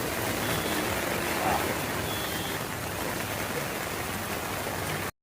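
Heavy rain pouring onto a flooded road in Chennai, a dense, steady hiss of water at constant loudness that runs without a break until it cuts off abruptly.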